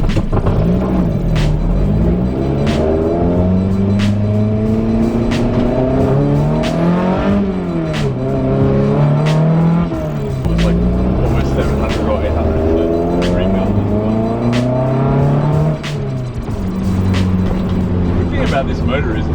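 A small project car with a cam accelerates hard through the rev range, the engine note climbing and dropping repeatedly in loud, close revving sweeps with gear changes between pulls.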